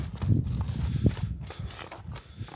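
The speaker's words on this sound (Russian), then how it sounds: "Валера, ты не умеешь гонять коня по кругу или что?" Horse hooves plod steadily on soft ground as a stallion is lunged in a circle during training, a continuous muffled clip-clop close by with no speech.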